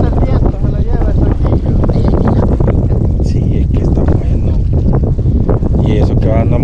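Strong wind buffets a small fishing boat out on the water during tilapia cast-net fishing, a constant roaring rumble throughout with voices faintly mixed in.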